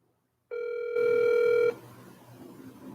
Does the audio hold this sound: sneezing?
no